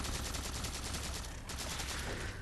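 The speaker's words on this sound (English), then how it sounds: "Who's shooting me?" Sustained automatic gunfire in Halo 4, a dense, loud, continuous stream of rapid shots with no talking.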